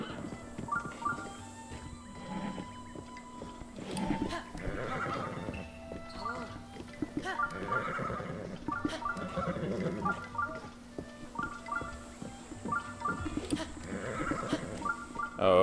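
A horse whinnies several times in a village in Zelda: Breath of the Wild, its neighs rising and falling over soft clopping hooves and a low steady hum, with a voice murmuring now and then.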